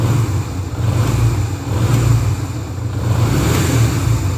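A 2001 Yamaha XV 125 Virago motorcycle engine runs steadily at idle with a low, even rumble, swelling slightly now and then, close by with no voices.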